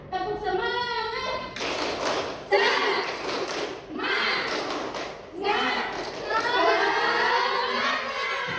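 A classroom of students stands and performs a rhythmic 'tepuk semangat' spirit-clapping routine: bursts of patterned group claps and slaps, fairly close and loud, mixed with voices talking and chanting along.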